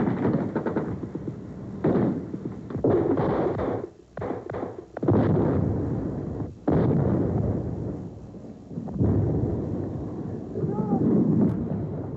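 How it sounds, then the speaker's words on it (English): Ontos recoilless weapons fire in a simulated military attack on strong points. Heavy booming blasts and bursts mix with someone narrator's voice throughout. "Weapons like the Ontos, massive for a simulated attack on strong points."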